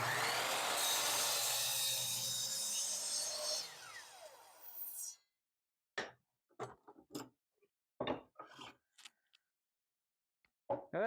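A saw cuts through a clamped piece of rough hardwood, steady loud rasping for about five seconds that stops abruptly, followed by a few scattered knocks and taps of wood being handled.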